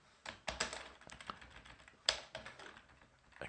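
Keys tapped on a computer keyboard in short irregular bursts, close and quiet, with a few sharper louder keystrokes standing out and no voices.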